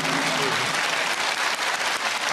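Studio audience applause on a family edition of a quiz game show, a dense, steady clapping that fills the whole stretch at moderate loudness, with no talking over it.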